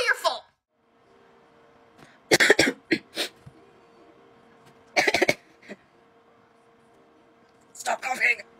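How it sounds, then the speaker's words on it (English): Several bursts of harsh coughing, close by, spaced out across the clip with quiet gaps between them. "Stop coughing."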